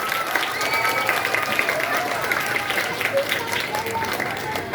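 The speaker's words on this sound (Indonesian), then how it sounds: "Tepuk tangan dulu." Audience applause at a Maulid Nabi religious gathering held by an Islamic education foundation, steady clapping from a crowd filling the whole stretch with a dense, continuous patter and no pause.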